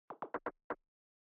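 Layered percussion hits in a tech house pattern, sitting low in the mix: five short, quiet, crisp hits in a quick irregular cluster, followed by silence, with no talk.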